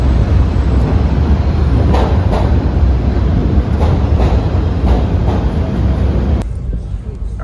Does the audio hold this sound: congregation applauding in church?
no